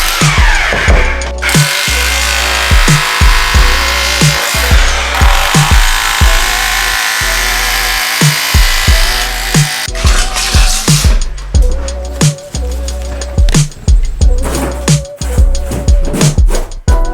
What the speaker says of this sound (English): Is that a little jackhammer?